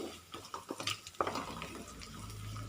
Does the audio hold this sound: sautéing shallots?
yes